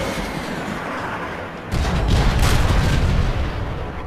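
Main guns firing in the Transformers: Fall of Cybertron video game, a loud, heavy artillery-like boom that kicks in suddenly over a low rumble and rolls on for a couple of seconds.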